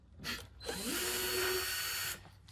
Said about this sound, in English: I'm gonna get my drill out here.